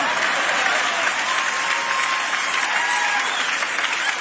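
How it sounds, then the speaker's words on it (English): Dense, steady clapping from a large audience fills the whole stretch at an even, loud level, with no break or fade. "Why are you clapping for me?"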